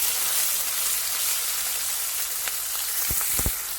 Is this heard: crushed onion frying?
yes